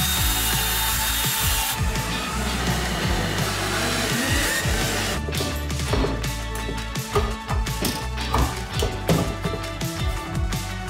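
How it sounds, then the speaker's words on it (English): A power drill bores through the plastic of a recessed medicine cabinet during installation, whirring steadily at close range, with busy clattering bursts and knocks as the bit works through the material. "I'm gonna start just drilling through the plastic."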